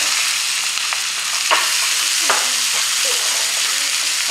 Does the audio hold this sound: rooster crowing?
no